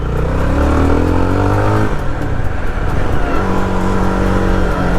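A Jawa 42 FJ 350 motorcycle engine runs steadily in second gear, a loud, close continuous drone with a shift in pitch partway through as the revs change.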